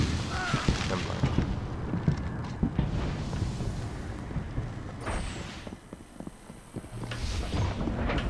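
A grenade explosion in a video game, heard as a heavy low boom amid dense rumbling gunfire and battle noise, with someone talking over it.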